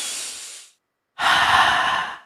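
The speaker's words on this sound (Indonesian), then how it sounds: "Tarik napas dulu ibu," A woman breathes deeply: a long audible exhale, a short pause of silence, then a strong, breathy inhale, close and fairly loud with no speech.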